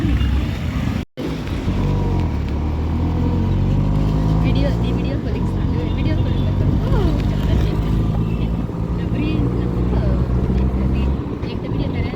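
Ride inside a moving auto rickshaw: a steady, close engine drone with road rumble throughout and a brief cut near the start, while people talk over it.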